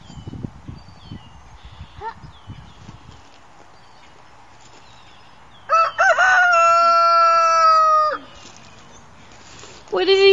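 A young child imitates a rooster's crow, a sustained, harmonically rich call of about two seconds in the middle, with quieter adult talk and light background noise before and a brief second attempt beginning at the end.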